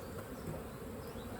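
Honey bees buzz in a dense, continuous hum as they are shaken off hive frames, close and steady throughout.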